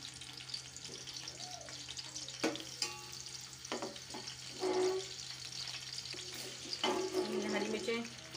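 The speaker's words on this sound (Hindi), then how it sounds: "तो हम सबसे पहले लहसुन अदरक का पेस्ट डालते हैं इसमें" Garlic ginger paste frying in a pot makes a soft, steady sizzle with stirring scrapes and clinks over it, fairly close and quiet, with no voices.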